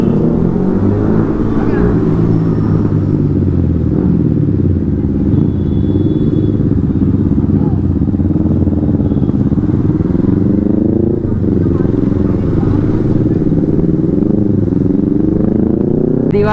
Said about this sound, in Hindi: चेक करो गाइस, काफ़ी फटाके फोड़ रहे दोनों बाइक्स